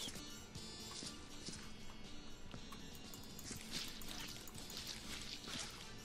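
Water pours from a bucket in the Viscera Cleanup Detail video game, a steady close splashing stream with scattered drips running the whole time, no talking over it.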